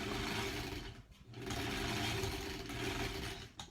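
A sewing machine stitches fabric pieces of a granny square quilt block, running in a steady, close, continuous mechanical whir that briefly pauses near the one-second mark and again at the end.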